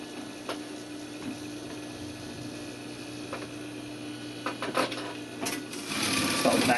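A sewing machine stitches a welt pocket with a steady, close mechanical hum and rapid ticking, interrupted by brief clicks and growing busier and louder toward the end.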